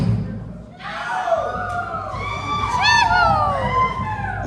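Family and friends in an audience scream, cheer and shout together, with children's voices among them. The loud crowd noise swells and stays fairly steady, and high whoops rise over the general din.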